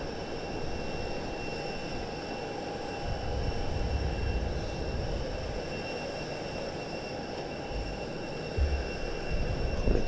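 An aircraft flies past at Southend Airport during a Battle of Britain Memorial Flight event, a faint distant engine drone with a steady hum, occasional low rumbles and surges in the background.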